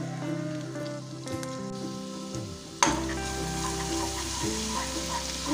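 Garlic sizzles and crackles steadily in hot oil in a pan, a close, continuous frying hiss, with a clatter partway through and a faint background hum.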